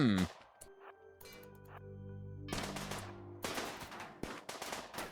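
Turrets in the video game Rimworld firing bursts of gunfire, with rapid cracks clustered in the second half after a few scattered earlier shots, crisp and game-like over a low synthetic hum.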